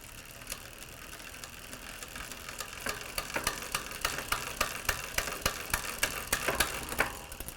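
A bicycle drivetrain whirring as the pedals turn while the derailleur cable tension is raised to shift, a steady faint hum with sharp rhythmic clicks that grow quicker and louder toward the end, no talk.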